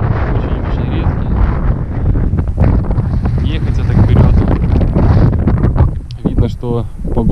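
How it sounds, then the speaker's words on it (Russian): Strong wind buffets the microphone in a steady, loud roar on early winter lake ice while fishing, with gusty low rumbling throughout and a brief voice near the end. "Сильный ветер."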